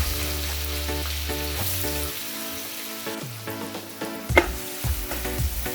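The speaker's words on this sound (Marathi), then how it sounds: "कांदा छान असा फ्राय करून घेऊया" Chopped onion frying in a pan with asafoetida, minced ginger and green chilli, a steady close sizzle with soft scraping stirs and a few clinks of a utensil against the pan.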